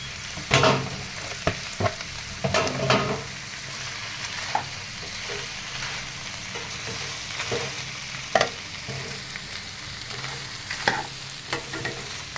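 Dried red chillies and asafoetida frying in oil for pirandai chutney, a constant close sizzle punctuated by sharp spoon scrapes and stirring knocks at irregular intervals, with no one talking.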